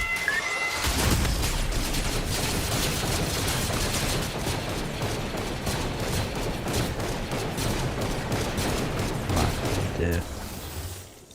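Stormtrooper blaster fire in Fortnite, a loud continuous rattling volley of rapid shots lasting about ten seconds with dense crackling bursts before it cuts off.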